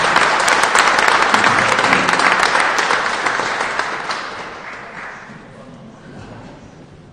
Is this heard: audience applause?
yes